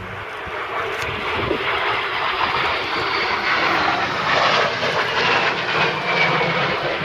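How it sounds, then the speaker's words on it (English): A Wildcat helicopter flies past at an air display, a loud, steady engine and rotor roar that swells and holds throughout with some wind buffeting and no talk. "line astern, just tucked under Ken's aircraft."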